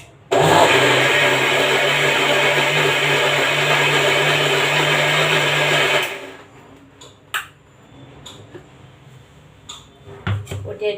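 A mixer grinder grinding almonds for badam halwa whirs loudly and steadily for about six seconds, then stops, leaving faint clinks and handling noises close by.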